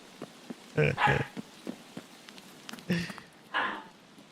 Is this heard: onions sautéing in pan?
no